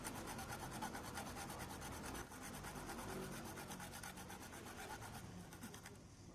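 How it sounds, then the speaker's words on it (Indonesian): Hand saw cutting a motorcycle ignition part for a dual ignition system, worked in a tight spot: steady, close rasping strokes in a quick back-and-forth rhythm. "Jadi supaya tidak melebar kemana-mana kita cukup pakai gergaji saja teman-teman."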